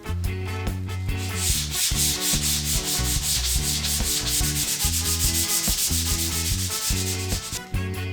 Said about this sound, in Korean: 샌딩을 할 때에는 사포를 나무의 결 방향으로 문질러 줍니다.